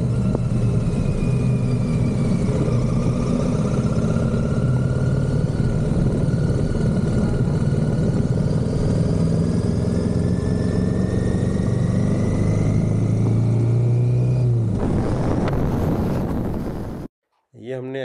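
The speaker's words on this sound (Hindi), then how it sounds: "बस आप अब साउंड इन्जॉय करिए बाइक का" A Royal Enfield Himalayan motorcycle engine hums steadily while riding into Sonamarg, its pitch rising and falling smoothly beneath wind rush, then cutting off abruptly near the end.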